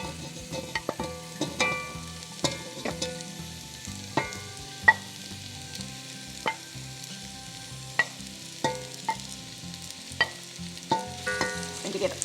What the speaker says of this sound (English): We're just going to fry the spice mix just a little bit before we add in our finely diced meat.